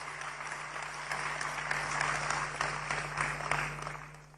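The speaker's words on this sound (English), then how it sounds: "Let's give our national chairman another round of applause." Audience applause for a national chairman at a political address, a fairly distant, steady patter of many hands clapping over a low constant hum, swelling slightly in the middle.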